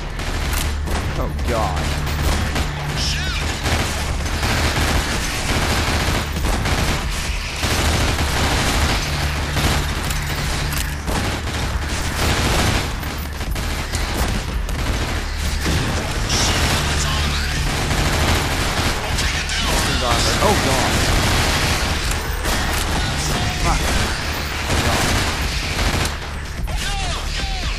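Sustained automatic gunfire and weapon mechanisms in the horror shooter Nightmare House 2, loud dense bursts running almost without pause, with a man briefly exclaiming over the shooting.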